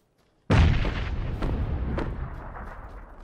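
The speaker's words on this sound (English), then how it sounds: "I threw a nade." A grenade going off in the battle royale game PUBG: one sudden loud blast after a brief silence, followed by a long rumbling decay with a couple of faint pops, no talking.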